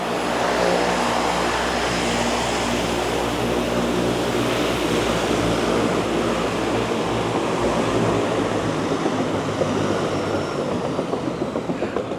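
A loud, steady engine drone of a propeller airplane flying by near Roche Harbor fills the whole stretch, close and continuous with a low rumble beneath a broad roar.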